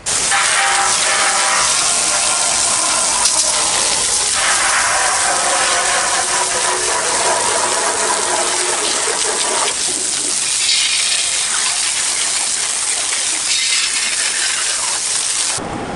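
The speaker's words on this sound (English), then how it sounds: "I'm just going to hit everything with a bit of degreaser" Water from a hose sprays over a mild steel firepit to rinse off degreaser, a loud steady broadband hiss with rattling spatter against metal, easing somewhat in the later part, no talk.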